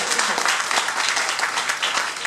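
Audience at a Bangkok comedy club claps for a performer's young daughter, a lively, fairly loud burst of applause that stays continuous from start to finish.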